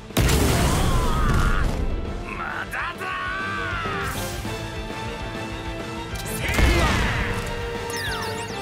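Explosive skull attack in the video game One Piece Odyssey, a loud crashing boom at the start followed by rumbling impact noise and a second burst near the end, with shouted character voices over it.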